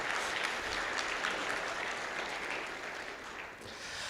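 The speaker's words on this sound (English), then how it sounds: "let's give them a round of applause anyways" An audience applauds in a conference ballroom at a functional programming event, a fairly soft, sustained wash of many hands clapping that eases slightly toward the end.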